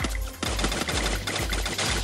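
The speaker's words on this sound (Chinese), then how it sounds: "开枪有时候敌人就会停下来" FAMAS assault rifle firing in the mobile battle royale game Free Fire, a rapid string of about five sharp, loud gunshots at an even rhythm, each with a short boom, and no talking.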